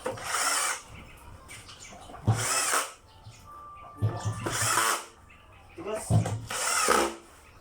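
A power screwdriver runs in several short bursts while screws are driven during a vacuum motor repair, each whir lasting about a second with pauses between, close by and loud, with someone talking in between.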